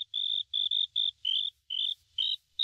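Cricket chirps in a modded Minecraft-style survival game, a series of short, high, evenly spaced trills repeating about eight times, clear and alone with no talk.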